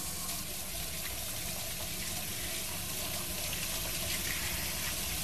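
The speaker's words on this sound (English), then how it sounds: "I'm gonna go wash my hands real quick here." Tap water running steadily into a sink while hands are washed, a continuous close hiss and splash with no pauses.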